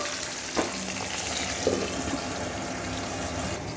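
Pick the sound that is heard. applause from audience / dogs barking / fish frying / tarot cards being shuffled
fish frying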